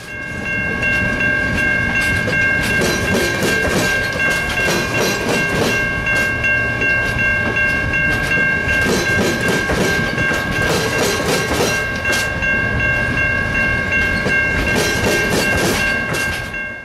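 An Amtrak passenger train rolls past close by for the whole stretch, loud and steady, with rhythmic clickety-clack of wheels over rail joints and a high ringing whine above the rumble.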